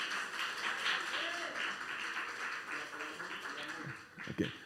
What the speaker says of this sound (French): je vous demande de l'applaudir pour moi